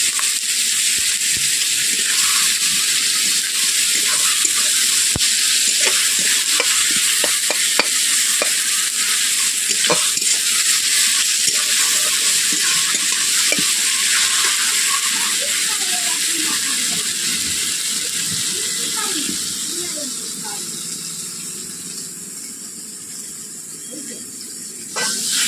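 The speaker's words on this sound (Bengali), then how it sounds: "পেঁয়াজ রসুন একসঙ্গে ভাজা হয়ে গেছে" Onion and garlic fry together in a kadai with a continuous close sizzle and bursts of scraping stirring, the hiss easing gradually before a final clatter.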